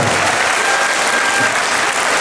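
Loud, dense applause from a large audience fills a Lezgin festive concert hall, steady and continuous throughout.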